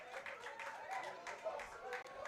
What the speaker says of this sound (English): And the crowd's getting loud